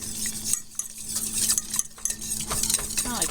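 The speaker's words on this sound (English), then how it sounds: "I just want to bring this to a boil and stir it constantly" Strawberry preserves with pectin are stirred in a pot, with repeated scraping and swishing strokes of a spoon and light clinks against the metal, close and steady, with no voice.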